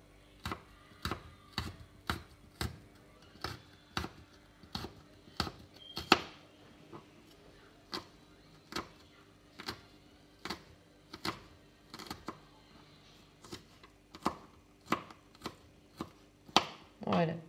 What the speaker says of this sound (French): j'ai nettoyé l'ail, enlevé la tige du milieu et je vais le couper tout finement